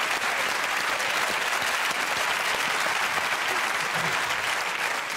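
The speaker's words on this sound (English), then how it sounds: "Give me a round of applause, let's go!" A television studio audience on a comedy panel show breaks into sustained, loud applause, dense clapping that continues evenly throughout.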